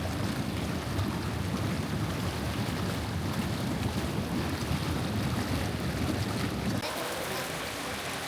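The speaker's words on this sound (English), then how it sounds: "Here is a look at the hot tub." Water churning in a hotel's outdoor pool and hot tub in Pigeon Forge, Tennessee, a steady loud bubbling wash with wind noise that lasts the whole stretch, easing slightly near the end.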